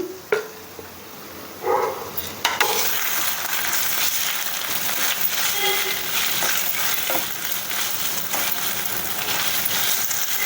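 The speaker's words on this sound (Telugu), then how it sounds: "ఉల్లిపాయ పేస్ట్ కూడా ఒక స్పూన్ వేసుకొని వేపుకోవాలి" Onion paste hits hot oil in a pan for egg masala curry, a loud, steady sizzle bursting up after a few clinks and holding strong, with occasional scraping of a spoon through the frying.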